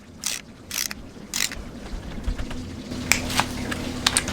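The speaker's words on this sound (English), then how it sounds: "now we're going to go to number 3 and torque it down" A ratchet torques camshaft bolts on a Neon SRT-4 engine, giving several short bursts of rapid clicking with metallic clinks and handling noise between them, close by and without speech.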